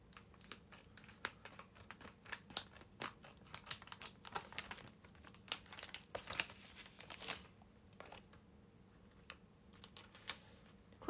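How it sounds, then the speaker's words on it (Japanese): Crisp, irregular snips and crinkles from a pair of sharp household scissors cutting, close and fairly quiet, repeating in quick clusters over about eleven seconds with no talking. "このハサミめっちゃ切りやすいハサミです。"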